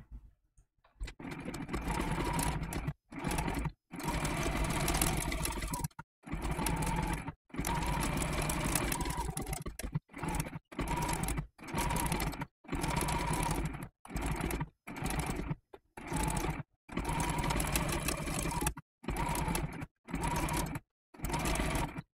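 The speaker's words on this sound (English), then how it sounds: "I'm not going to change my stitch at all. I'm going to go with the same blanket stitch." Sewing machine working a blanket stitch around raw edge applique, width 2.2 and length 1.6, in many short close bursts separated by brief silent pauses as the fabric is turned.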